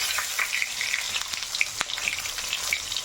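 Onions and whole garlic fry in a pan with a continuous crackling sizzle, scattered pops and light stirring clicks, close and steady with no talk.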